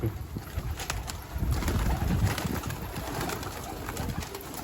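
Soft, low cooing of pigeons against a steady outdoor hiss, several birds murmuring continuously with occasional rustles nearby.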